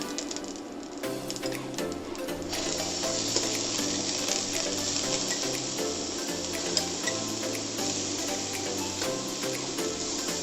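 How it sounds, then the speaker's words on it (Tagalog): Shrimps fry in oil for ginataang langka with pork and jackfruit. A bright sizzle swells in after a couple of seconds and holds steady over a low tonal background, with no talking. "First, iprito muna natin itong shrimps."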